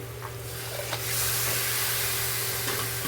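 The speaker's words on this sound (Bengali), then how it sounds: "চিকেনটা অ্যাড করে দিলাম দিয়ে এইবার মশলার সঙ্গে ভালোভাবে কষাবো" Marinated chicken pieces being fried and stirred into masala in a pan over a high gas flame, a steady close sizzle and hiss with occasional stirring scrapes, no talk.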